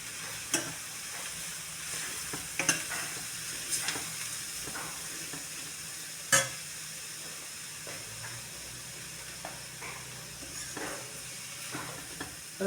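Coconut and turmeric being stirred in a hot frying pan for a Kerala thoran give a continuous soft sizzle and hiss, with scattered scraping knocks of the spoon at irregular intervals.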